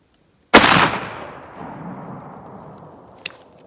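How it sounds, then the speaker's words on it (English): A 12 gauge shotgun fires a Mr. Hollow Point 7/8-ounce slug at a patterning board outdoors: one very loud, sharp blast with a long rolling decay, then a faint metallic ping near the end. "That's like the loudest noise I've ever heard from a shotgun."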